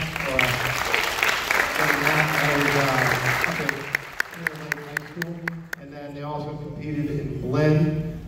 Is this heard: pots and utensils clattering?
no